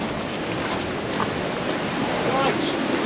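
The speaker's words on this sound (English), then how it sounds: "Windy, isn't it?" Seaside wind blowing hard past a motorhome, a steady broadband rush with buffeting against the microphone and faint surf beneath, continuous and loud, with a few voices speaking.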